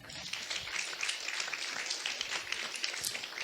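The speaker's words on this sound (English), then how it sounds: "I think that deserves a round of applause" Dense, steady applause from a large audience at an apprenticeship session, a continuous wash of many hands clapping at moderate distance with no pauses.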